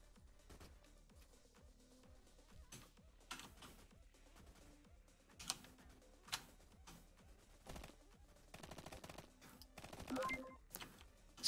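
Bursts of gunfire from the video game SmugForce, short sharp shots scattered irregularly with a denser run of rapid fire near the end, fairly quiet overall with no talking.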